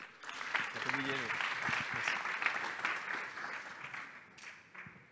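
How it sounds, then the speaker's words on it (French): A crowd at a startup business event applauds with steady, dense clapping that fades toward the end, while a voice speaks briefly over it. "Sous vos applaudissements s'il vous plaît."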